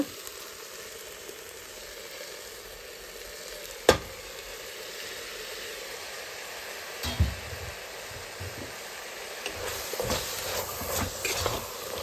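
Steady, close sizzling of food frying in a pan, with an occasional clink and scrape of stirring, growing a little busier near the end.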